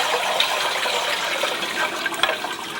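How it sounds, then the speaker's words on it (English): Liquid pottery glaze is poured through a bronze screen into a bucket and brushed through with a soft brush, making a steady close rushing, splashing trickle that runs for about three seconds with small drips and taps. "we'll pour it through the screen and then use a soft brush to coax it through the screen"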